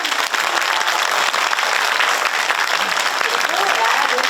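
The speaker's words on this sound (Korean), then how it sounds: "지정남 배우님께 큰 박수" Theatre audience giving a big round of applause for an actress, a loud continuous roar of many clapping hands with faint voices mixed in, close and sustained.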